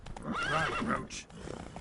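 The horse Roach gives a short, close whinny with a falling, wavering tone in a video game, followed by a few light hoof clops.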